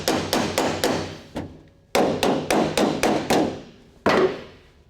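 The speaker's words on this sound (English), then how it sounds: "Now some clamps and a body hammer are perfect for getting it just right." A body hammer strikes a steel body panel of a 1966 Ford Bronco in quick bursts of four or five sharp taps, pausing between each bunch, close and ringing slightly.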